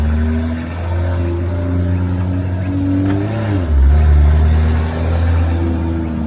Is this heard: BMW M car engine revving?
yes